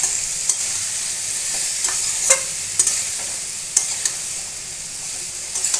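Masala with potatoes and pointed gourd is stirred and fried in oil, a constant close sizzle broken by several sharp scrapes and clinks of the spoon against the pan.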